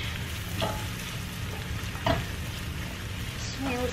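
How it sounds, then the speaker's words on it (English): Steady, close sizzling of garlic and red onion frying in a pan, with occasional scrapes and clinks from stirring. "I just love the smell of the garlic when I'm frying them"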